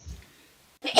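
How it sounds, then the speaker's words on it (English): One sharp, close sneeze bursts out after a soft inhale and a brief silence, with no talking. "Oh, that was a sneeze."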